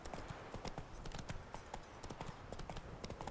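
Roach, the horse in The Witcher 3, gallops along in a quick, steady clip-clop of hooves, close and fairly loud, with a rider's faint voice briefly over it.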